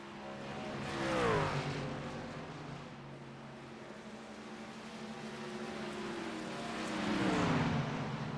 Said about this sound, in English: You'll hear those beautiful cars go around me